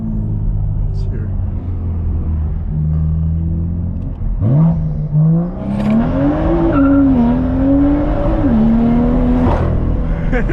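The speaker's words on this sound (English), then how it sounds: "You could hear it just, the turbo spooling sounded amazing." A straight-piped, turbocharged BMW M2 accelerates on a country road, a low rumble first, then a loud, close engine surge rising and holding with a brief chirp of wheel slip.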